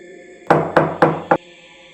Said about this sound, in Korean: 급한 노크 소리가 들려왔습니다.